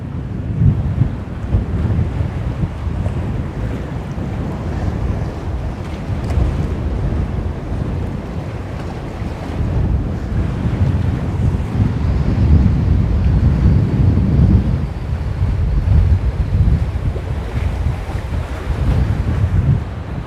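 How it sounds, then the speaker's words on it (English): Strong wind buffets the microphone beside ocean waves at Busselton, Western Australia during a storm, a loud continuous roar of gusts and surging surf with no voices. "I don't think this wind's going to die off, you know."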